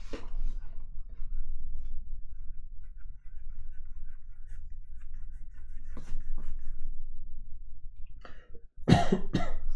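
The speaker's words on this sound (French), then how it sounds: "Eh ben, tu tousses." Near the end a short burst of coughing erupts, sharp and close, after a mostly quiet stretch with faint ticking and a low hum.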